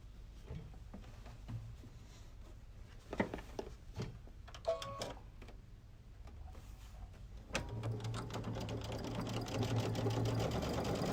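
Sewing machine stitching quilt blocks for a cupcake nine-patch, running in short bursts with clicks and pauses before a longer steady hum of stitching near the end.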